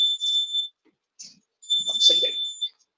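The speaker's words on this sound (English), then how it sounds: "Fire alarm is coming." A fire alarm beeps with a shrill, high electronic tone in short repeated bursts, loud and near, while a voice speaks briefly between the tones.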